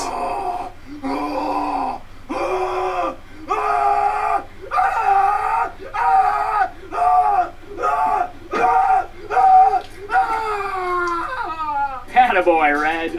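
Screaming in a horror film scene from Mandy: about a dozen loud, anguished cries in a rhythmic series of bursts over a low background hum, ending in a wavering shriek.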